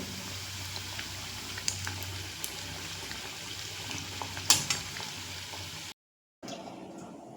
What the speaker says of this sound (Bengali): বাকি চপগুলো আমি একইভাবে ভেজে নিয়ে ফিরে আসছি